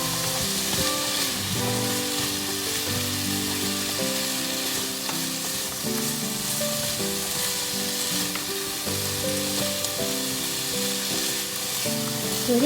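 Pumpkin curry with pork stir-frying in a pan: a steady, close sizzle runs throughout with bright hissy texture under a musical background, with no clear talk.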